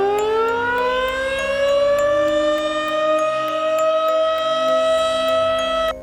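A Federal Signal 2T22 Model 5 siren winds up from a low pitch to a loud, sustained rising wail with a rich chord of tones, holding steady before cutting off abruptly.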